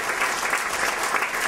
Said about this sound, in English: Once again, big applause for not doing something.